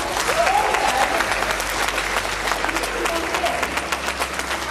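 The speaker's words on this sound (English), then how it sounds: "So big round of applause for Jeff." An audience applauds Jeff at the UKPC 2019 VonCon event, a steady, dense wash of clapping that fills the whole stretch, with crowd noise underneath.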